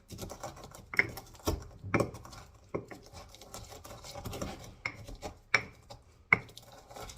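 Garlic and pimento being crushed for a fish marinade: a sequence of sharp, close knocks and pounding taps with uneven gaps between them, over quiet scraping, with no talk.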